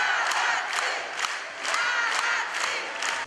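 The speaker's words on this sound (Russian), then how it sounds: "Зал был переполнен людьми, которые на протяжении всего мероприятия поддерживали танцоров, хлопали и скандировали «Молодцы!»" A packed hall of spectators at a dance show claps and cheers, with loud rhythmic chanting bursts recurring about every half second over continuous crowd noise.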